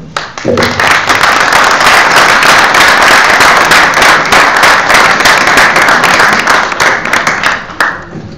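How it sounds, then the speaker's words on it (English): Audience at a conference breaks into sustained applause, loud and dense claps filling the room for several seconds before tapering off at the end. "So I'd like to start with a round of applause."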